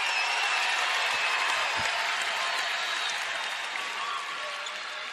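A women's professional basketball arena crowd roars as the Connecticut Sun pass 100 points on opening day against the Las Vegas Aces, a dense sustained cheer and applause that holds steady, then eases slightly near the end.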